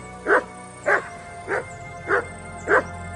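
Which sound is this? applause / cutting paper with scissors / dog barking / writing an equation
dog barking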